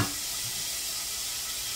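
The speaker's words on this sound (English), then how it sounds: "I put about a cup of water inside of my pot" About a cup of water is poured into a cooking pot in a home kitchen, making a steady, soft rushing hiss after a brief initial splash, with no talk.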